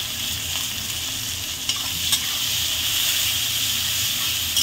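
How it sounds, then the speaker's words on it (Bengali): Onions frying in a pan with whole dried chillies and a pinch of salt, a loud, steady hissing sizzle that runs throughout, with an occasional clack of a stirring spoon. "পেঁয়াজটা লাল লাল করে বন্ধুরা ভেজে নেবো একদম।"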